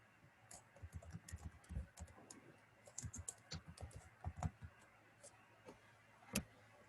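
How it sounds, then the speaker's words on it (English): Irregular bursts of clicking keystrokes on a computer keyboard while random text is typed into a text box, close and moderately quiet, with no talking. "So I'm just typing some random stuff."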